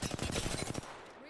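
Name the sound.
gunfire in Apex Legends video game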